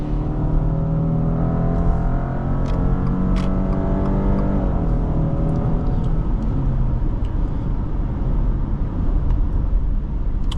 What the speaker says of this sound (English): I've been enjoying this acceleration in the Subaru, although it's not anything mind-blowing.